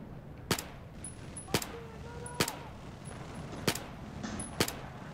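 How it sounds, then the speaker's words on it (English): Gunshots ring out in Battlefield 4, five sharp, fairly loud cracks spaced about a second apart over a murmuring battle background, with faint voices in between. "What is shooting at me?"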